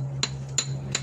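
Three sharp hammer blows land at an even, unhurried pace, each a crisp bright strike ringing over a steady low hum, close by with no talk.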